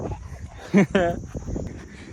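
A dog gives two short, loud barks close by amid background chatter and footsteps, with people talking around it.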